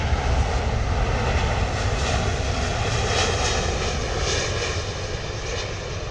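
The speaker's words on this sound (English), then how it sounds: "Definitely the loudest aircraft of all of them." A loud airliner in Festival of Creativity livery lands at London Heathrow, its engine roar broad and steady, easing off slightly as it passes.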